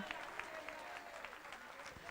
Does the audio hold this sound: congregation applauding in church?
yes